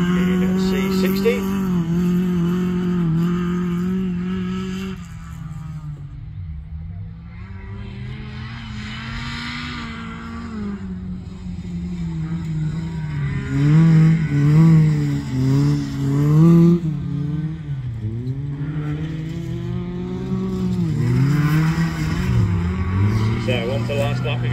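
Autograss race cars at a Ludlow meeting lap the dirt track, engines droning and revving loudly as they swing through the turns, with a commentator talking continuously over the racing.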